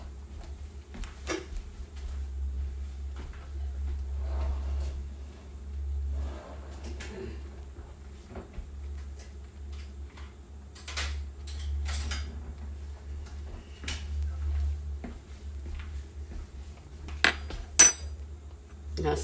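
A different metal spoon is fetched from a kitchen drawer mid-way through making milk gravy from scratch, giving scattered light clinks and rattles of cutlery against a steady low hum, with a sharper clatter near the end.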